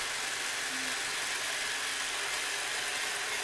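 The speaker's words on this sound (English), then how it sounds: "I'm cutting the cast iron pipe. Now, I'm using my Milwaukee cordless Sawzall" A Milwaukee cordless Sawzall with a faulty trigger and failed variable speed cuts through cast iron drain pipe, giving a steady, loud, hissing grind that holds without a break.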